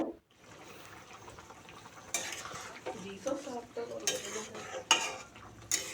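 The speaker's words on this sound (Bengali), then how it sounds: "হালকা একটু নাড়াচাড়া করে নিব" A spoon stirs raw tomato into boiling fish curry in a pot with winter vegetables, giving a soft, close scraping and clinking with light bubbling and sizzle underneath.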